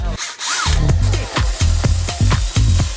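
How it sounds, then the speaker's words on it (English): A power drill with a sanding attachment runs in repeated bursts, whirring and grinding rust off metal on a Vauxhall Calibra, starting and stopping about six times at a close, loud level. "Let's not put that drill away just yet. It's time to sand down the rust."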